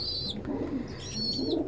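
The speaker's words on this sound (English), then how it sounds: "They're such good little birds." Pet pigeons or doves cooing softly indoors, a steady low murmuring coo running continuously, with faint higher chirps above it.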